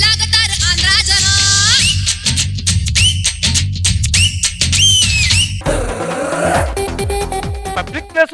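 Shrill, swooping whistles rise and fall repeatedly and loudly in a lively comedy skit crowd, mixed with voices and noisy background sound.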